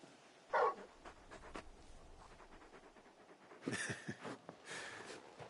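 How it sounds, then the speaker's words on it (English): A big dog in the Final Fantasy 16 video game pants faintly in short breathy bursts, with a quick puff early on and a longer run of rhythmic panting near the end. "You're just a big puppy, aren't you? A very big puppy."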